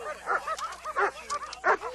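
Prison K9 training dogs bark and yip in short, loud bursts during an agitation exercise, several dogs overlapping nearby in an uneven rhythm with whimpering between barks.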